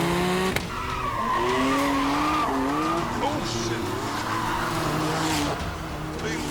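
A car with a turbocharged 525 brake horsepower engine and no driver aids roars hard while its tyres skid and squeal in long wavering slides, with a sharp knock early on and someone shouting in alarm.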